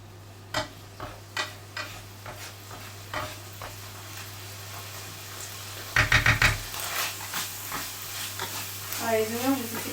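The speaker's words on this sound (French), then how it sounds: "Là, on va finir de saisir les lardons." Lardons (bacon bits) searing dry in a pan without added fat, giving a soft sizzle under repeated stirring and scraping clicks, with a few louder knocks partway through.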